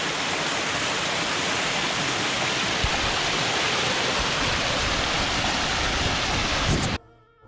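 Water rushing steadily on a mountain hike in Snowdonia, a dense, loud, continuous wash like a stream or small waterfall close by, cutting off abruptly near the end.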